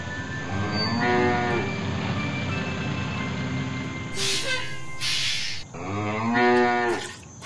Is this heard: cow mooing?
yes